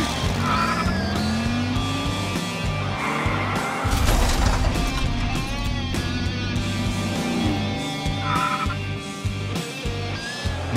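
Diecast toy cars, including a Mustang and a 1971 Dodge Demon, race down a track in a ZAMAC finals heat, giving a loud, steady rolling rumble with brief rattling bursts throughout.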